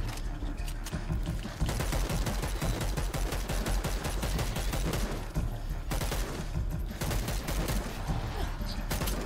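Dense, continuous gunfire in the Dead Island 2 video game, rapid loud shots crackling without pause for nine seconds, with brief lulls in the onslaught.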